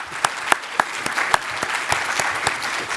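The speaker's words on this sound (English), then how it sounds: "So big round of applause for Pat." An audience claps at a talk, a dense round of applause with a few sharp louder claps standing out, moderately close and without voices over it.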